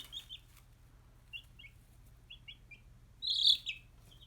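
Baby chicks chirp in short high peeps, scattered and fairly faint at first, then a louder cluster of cheeping near the end over a low steady hum.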